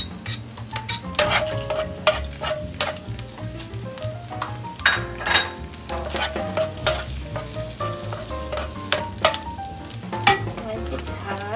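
Garlic sizzles steadily in hot oil in a pan for pork adobo, with sharp metal utensil clinks and stirring knocks breaking through the frying at irregular intervals.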